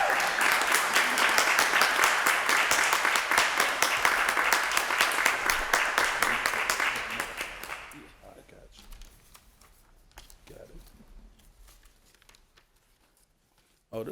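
Dense applause fills an EMS promotion ceremony for a reinstated paramedic, loud and steady for about eight seconds before fading to scattered claps and quiet room noise with some talk.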